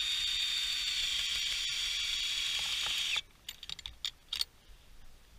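An ice screw spun by a drill at its lowest speed setting gives a steady, close, high whine for about three seconds, then cuts off, followed by a few sharp handling clicks and knocks.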